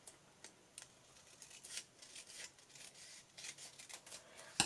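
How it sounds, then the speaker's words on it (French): Scissors cut along a folded piece of material with a series of quiet, crisp snips and rasping slides, close up and fairly faint, without talking. "je vais venir le couper sur le pli ici"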